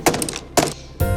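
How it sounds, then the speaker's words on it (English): A book being banged: three dull thumps in quick succession, close and fairly loud, spaced by short pauses. "Banging it is not going to make it work."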